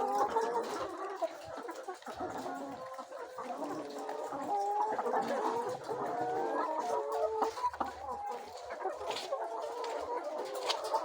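A farm flock of point-of-lay chickens in northern Ghana clucks and chatters continuously, many birds calling over one another at close range with a steady, busy murmur.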